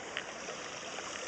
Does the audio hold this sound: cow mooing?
no